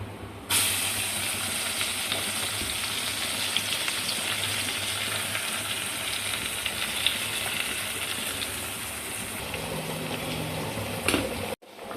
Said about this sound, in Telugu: కరివేపాకు ఆయిల్లో వేసుకున్నాం